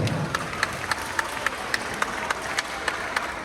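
An audience claps for two mothers at a children's salsa dance event, with sparse, evenly spaced claps over a soft background hum.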